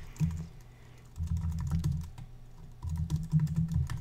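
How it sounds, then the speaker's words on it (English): Steady typing on a computer keyboard, close and fairly quiet, in bursts of rapid key clicks separated by a short pause, with no talking. "And then I can start typing."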